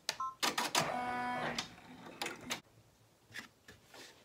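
An embroidery machine stitches a single tacking stitch around an in-the-hoop Easter egg gift card holder: short bursts of fast mechanical chattering and whirring, close and fairly loud, separated by pauses and a few clicks.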